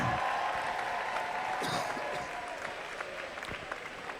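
An indoor arena crowd at a robotics regional tournament applauds and cheers, a steady wash of clapping that eases slightly toward the end, with a few sharp louder claps and faint voices in the mix.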